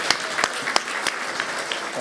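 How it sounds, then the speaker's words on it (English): Scattered applause from an audience at a competition event, with a handful of sharp individual claps standing out over a soft, thin patter of clapping. "A round of applause again."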